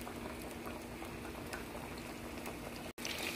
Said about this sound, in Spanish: Y aquí están cocinándose nuestras papas.